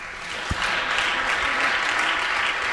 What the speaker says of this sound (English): Please give the authors big applause.